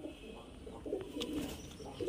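Giribaz highflyer pigeons coo softly in low, repeated rolling notes at close range, a few calls overlapping over a faint background hum, with no talking.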